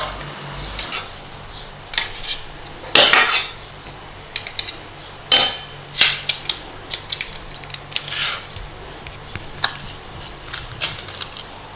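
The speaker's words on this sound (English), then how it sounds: "You just put it in, close over and give it a squeeze. Okay, do that with all your potatoes." Cooked potatoes are squeezed and mashed through a metal potato ricer, giving a series of sharp clanks, squishes and scraping clicks at close range, irregular bursts with quiet gaps and no talking.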